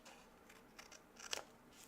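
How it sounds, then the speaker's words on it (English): A few quiet snips of scissors trimming paper, soft and close, spaced unevenly over a near-silent background. "Take the scissors."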